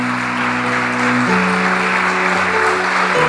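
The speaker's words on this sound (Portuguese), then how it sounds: "Aplauda ao Senhor neste momento." A church congregation claps together during a service, a steady wash of applause with an organ or keyboard chord sustained underneath, moderately loud and without speech.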